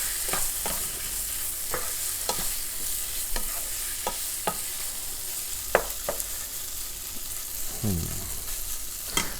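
Paneer chilli ingredients fry and toast in a pan with a steady sizzle, while sharp scraping stir strokes land every second or so and one brief clatter rises near the end, with no talk.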